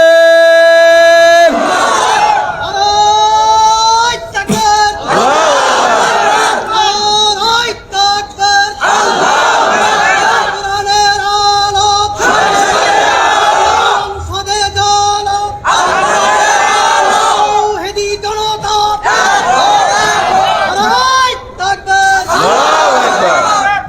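A large crowd at an outdoor religious gathering in Bangladesh chants takbir in loud unison, answering a speaker's call. The shouted responses come in repeated, powerful bursts with short pauses between them, over amplified echoing sound.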